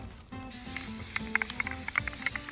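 Steady hissing of an aerosol spray paint can coating foam with orange paint, sprayed in short bursts with faint clicks and rattles between passes.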